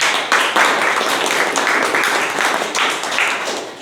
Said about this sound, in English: So please have a round of applause for him.